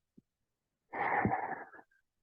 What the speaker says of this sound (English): And now begin your exhale